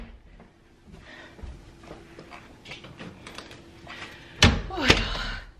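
Doors being closed in a home during party decorating: soft shuffling and light knocks lead to two loud, close thuds of doors shutting near the end.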